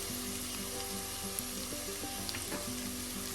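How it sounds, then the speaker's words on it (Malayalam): Potato and okra stir-fry sizzling steadily in a pan, with soft stirring scrapes and occasional light clinks, close and fairly loud, with no voices. "എല്ലാം കൂടെ ഒന്നും കൂടെ ഇളക്കി"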